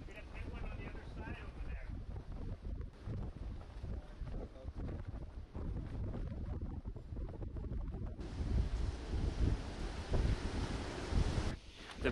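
Steady broadband wind in the eye of Category 5 Hurricane Dorian roars and buffets the microphone throughout, growing louder and harsher in the final seconds, with faint voices underneath.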